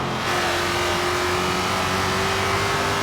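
A supercharged Coyote V8 in a Ford FPV GTF 351 roars steadily near and loud, a sustained, thick engine drone under load with a whining overtone, no voices.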